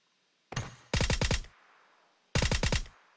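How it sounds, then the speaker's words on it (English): Video game gunfire: three loud, close bursts of rapid automatic shots, each cutting off sharply, separated by short silences. "It looks like he's taking some shots, but to nobody."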